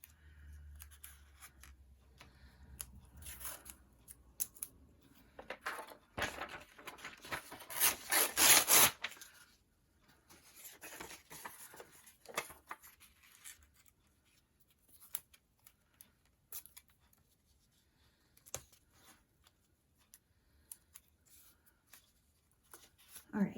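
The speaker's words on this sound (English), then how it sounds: "I'm going to tape it just in a couple places here." Washi tape is pulled and applied to a mixed media cover, with scattered close rustling and a dense burst of crackly tape tearing, amid quiet handling noises.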